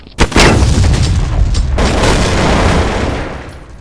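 A loud, close burst of gunfire from Counter-Strike: Source: a sharp opening crack, then sustained rapid shooting that rumbles on for several seconds before tapering off.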